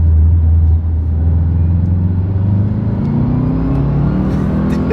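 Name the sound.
Subaru WRX accelerating, engine revving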